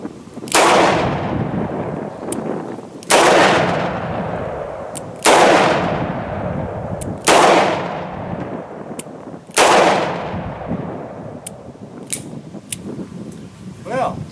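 A Smith & Wesson 696 .44 Special revolver fires five loud, sharp shots spaced about two seconds apart, each boom ringing out and decaying, with a few faint clicks afterward.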